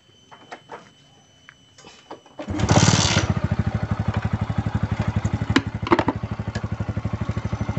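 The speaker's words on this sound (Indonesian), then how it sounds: "Kita hidupkan mesinnya." A motorcycle engine is started after some quiet clicks and handling, catching with a burst and then settling into a steady, rapid, even idle that runs close and loud to the end, with no talk.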